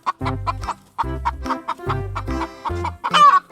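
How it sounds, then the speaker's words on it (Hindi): A toy rooster sounds off with a series of loud, close electronic clucks and crowing calls, repeating in bursts over a few seconds with no talking. "ये तो रोस्टर है।"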